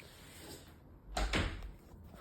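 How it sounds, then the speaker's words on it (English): An indoor door swings shut in a home where a robot vacuum is being shown, giving one solid thud with a brief knock after it, clear against a quiet background. "Sorry, I had to close the door because I'm filming."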